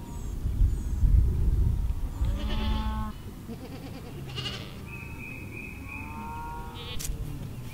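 Goats bleating on a pasture at a farm with newborn kids, several wavering calls at moderate distance over a low rumbling background, with one long steady tone midway.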